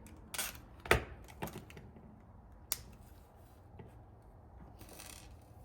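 Sharp crinkling snips and rustles as a plastic parts package for a Kawasaki KFX400 ATV carburetor jet is cut open with scissors, several quick close cuts followed by quieter handling.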